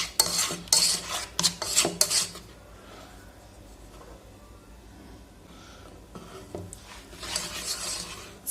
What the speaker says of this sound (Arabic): عندنا الماء، صافي نخلطو هادشي مزيان